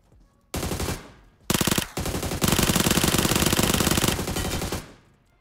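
Automatic weapon fire from the mobile game PUBG Mobile Metro Royale: a short burst, a pause, then a longer sustained volley of rapid rattling shots, loud and close, with no talking.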